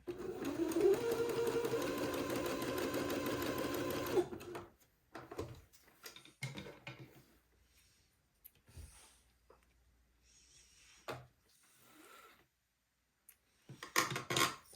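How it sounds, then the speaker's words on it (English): A sewing machine running a zigzag stitch on a seam of boys' shorts, a close, steady mechanical whir for about four seconds, then stopping, followed by quieter handling clicks and rustles. "The instructions said to zigzag it, so I'm going to zigzag it."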